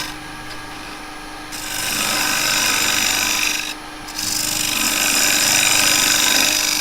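Square carbide woodturning tool plunging straight into spinning wood on a lathe, producing a steady loud rasping scrape that drops briefly mid-cut before resuming, with no talking.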